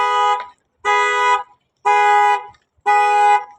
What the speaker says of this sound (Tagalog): This alarm for the car.